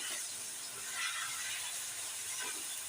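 Half a kilo of minced keema, just added to a pan with onions, sizzles in a steady, even hiss that fills the whole stretch with no talking.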